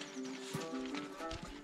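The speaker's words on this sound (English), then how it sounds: "Despite the horses being used to this route, the effort they were making was quite visible." Horses' hooves clop unevenly on a narrow, steep, rocky mountain trail in Kyrgyzstan, with several muffled hoof strikes over steady background noise and faint tonal sounds.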